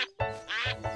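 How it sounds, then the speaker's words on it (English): Ducks quack in a few loud, nasal, close bursts separated by short pauses, with no talking. "There were real ducks."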